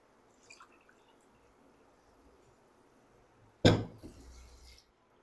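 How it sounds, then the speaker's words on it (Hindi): A cup of water splashes into thick biryani masala in a cooking pot, a single brief, close splash and gurgle that quickly settles after a quiet lead-in. "इसमें पानी डाल दूंगा।"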